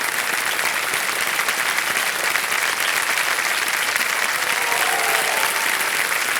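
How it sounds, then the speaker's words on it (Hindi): A studio audience on the KBC quiz show applauds, sustained, even and loud clapping filling the set from start to finish. "तालियां बज जाए"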